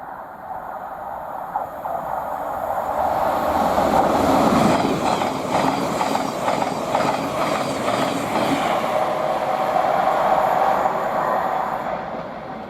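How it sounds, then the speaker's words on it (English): A passenger service from Peterborough to Horsham rolls past on the East Coast Main Line at Potters Bar. Its rumble swells to a loud, close peak with rhythmic wheel clatter over the rails, then eases off gradually. "the next train to pass by, we've got a service from Peterborough to Horsham"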